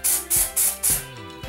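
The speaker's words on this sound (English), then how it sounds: "I'm just going to lift up the top section of hair next to my part and spray it underneath" Hairspray is sprayed into the underside of short hair in four quick, close hissing bursts, then goes quiet.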